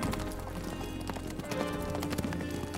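A horse galloping away in a radio drama, rapid clip-clop hoofbeats thudding in quick succession over a low rumble, loud and close throughout the short burst.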